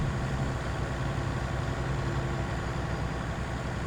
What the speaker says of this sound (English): testing out the new truck before I actually take it out and run